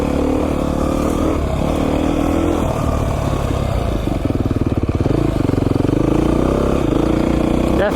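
A Beta 500 RR-S dirt bike ridden on a mountain single track, its engine running steadily with a throaty drone and rising rev pulses in the second half, loud and close, with no talk.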